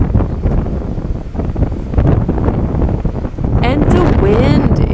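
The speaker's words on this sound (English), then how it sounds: "You probably can hear the sound of the wind. It's so strong." Strong gusts of wind buffet the microphone in an open outdoor setting in La Union, a steady loud rumble throughout, with a voice speaking briefly near the end.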